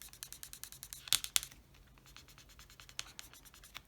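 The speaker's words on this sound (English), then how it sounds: "take your paper pencil and from the back color these designs in" Paper pencil rubbing over the back of thin embossing metal makes a fast, steady rhythm of close, dry scratching strokes with a couple of sharper scrapes and no talk.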